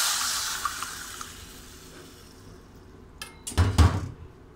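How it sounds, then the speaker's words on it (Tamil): Tamarind water and tomatoes go into a pan of tempering for tomato rasam: a soft frying hiss, then a brief near splash and pour with low thuds at the end. "நம்ம கரைச்சி எடுத்து வச்சுருக்க புளி தண்ணியும் தக்காளியும் இதில் சேர்த்துடலாம்."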